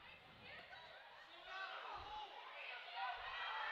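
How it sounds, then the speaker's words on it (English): A home crowd yells and shouts in a gym during a Hydro Eakly versus Canute girls basketball game, a faint, distant wash of mixed voices that rises slightly toward the end, with occasional dull thumps beneath. "Lots of yelling coming from Canute's crowd"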